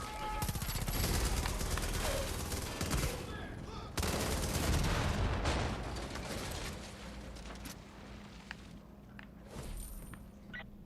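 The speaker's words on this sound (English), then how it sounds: "God, I hate these fucking guns." Gunfire in the video game Far Cry 5, with dense bursts of automatic fire and scattered single shots, loud and close, easing toward the end amid mechanical clicks and distant pops.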